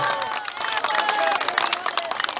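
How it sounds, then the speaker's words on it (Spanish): A crowd at an outdoor municipal handover event in La Asunta, Bolivia breaks into lively applause, dense rapid clapping with some voices mixed in, sustained and fairly loud throughout. "Un fuerte aplauso."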